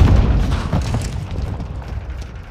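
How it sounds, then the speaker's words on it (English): A flash grenade goes off in Call of Duty Modern Warfare 2 multiplayer, one loud, close boom that decays into a muffled rumble over about two seconds. "Throwing flash grenade!"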